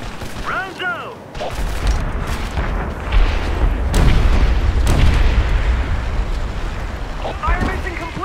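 Artillery shells explode in Medal of Honor Airborne, heavy booms rolling in one after another amid battlefield noise, with radio-style voices speaking over the barrage.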